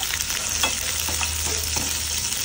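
Onion frying in about two spoons of hot oil for a Malvani shark fish curry, a dense, steady sizzle throughout with occasional faint stirring strokes, close and continuous.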